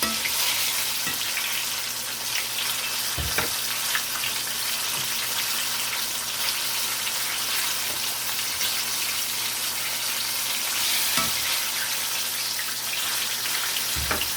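Apple donuts frying in hot oil, a dense, steady sizzle and crackle like light rain, with a couple of soft knocks as they are flipped, no voices.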